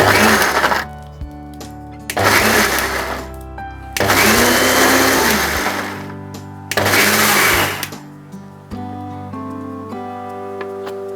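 An electric mixer grinder blends dried red chillies and panch phoron into a paste for jujube chutney. It whirs loudly in four separate bursts, close by and rattling, with short quiet pauses between them.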